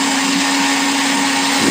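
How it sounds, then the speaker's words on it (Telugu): A mixer grinder whirs loudly and steadily while blending watermelon juice, a dense, continuous motor roar with no voices, dropping slightly in pitch at the very end. "ఇంకా జ్యూస్ అయితే ఇలా మిక్సీ చేస్తున్నాను"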